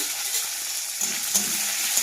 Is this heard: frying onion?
yes